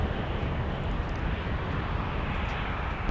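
Airliner on its takeoff run from runway 17 at Minneapolis–Saint Paul airport, a loud, steady roar of jet engines with no speech.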